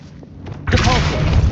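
In Hogwarts Legacy, a voice casts the Revelio spell and a sudden, loud, shimmering magical burst bursts out partway through, then sustains brightly to the end.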